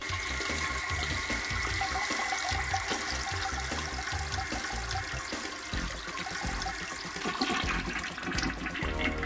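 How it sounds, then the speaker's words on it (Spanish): Household toilet flushing to empty its tank before a leak check, loud rushing and gurgling water close by, swirling then refilling with a steady hiss, no talking. "Jálenle al inodoro para vaciar el tanque."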